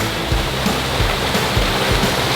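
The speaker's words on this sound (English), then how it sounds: "I kind of just want to sit here and like film the water just going in." Water pours steadily into an aquarium tank, a loud continuous rushing splash close by with no pauses.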